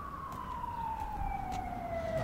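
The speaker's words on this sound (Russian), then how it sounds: "Воет сирена. Наверное, скорая едет." An ambulance siren wails steadily in a residential courtyard, a single sustained tone sliding slowly downward as the vehicle passes at moderate distance, faint under light outdoor background noise.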